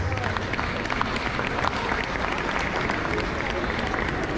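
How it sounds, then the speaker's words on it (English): Sustained audience applause for Mfundishi at a Nation of Islam gathering, dense steady clapping throughout with a low murmur and possible voices underneath. "Let's give him a big round of applause."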